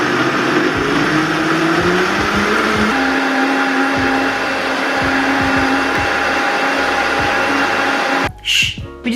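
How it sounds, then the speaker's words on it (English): A blender whirs through almonds and water for almond milk, a loud continuous motor drone that shifts pitch as the speed changes, then cuts out abruptly near the end. "now you just wanna blend it all together"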